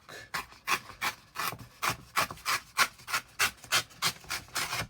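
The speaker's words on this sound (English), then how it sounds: "build up some clusters just by tearing. And as you can hear, this is cardstock." Stiff cardstock rips in a series of short, rough tearing bursts, close and fairly loud, coming in an uneven rhythm with brief gaps.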